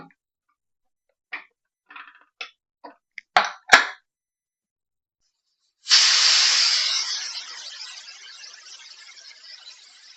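A pressure cooker cooking sprouted horse gram lets out a sudden loud hiss of escaping steam that slowly fades, preceded by a handful of scattered faint clicks and taps in otherwise quiet surroundings.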